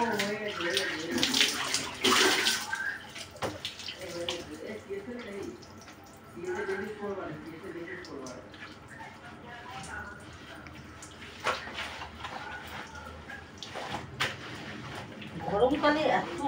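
Bath water splashing and pouring in a home bathroom during a hot-weather bath, broad bursts of watery noise rising and falling with a voice speaking over much of it.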